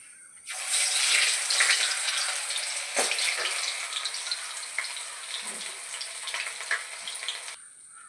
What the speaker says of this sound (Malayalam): ഇത് ചൂടായ വെളിച്ചെണ്ണയിലേക്ക് ഇട്ട് കൊടുക്കാം.